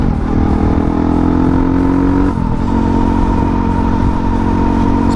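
A KTM 450 EXC dirt bike on knobby Dunlop MX-52 tyres revs loud and close, its engine pitch climbing steadily, dipping briefly at a gear change, then rising again under wind noise.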